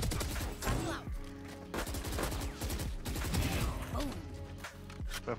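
Rapid gunfire in the shooter video game Valorant: dense bursts of sharp repeated shots filling the clip, punctuated by heavier cracks, loud and continuous with no clear pauses.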